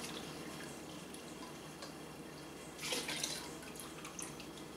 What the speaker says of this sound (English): So usually I just take a scoop of the liquor and pour it in with the sugar.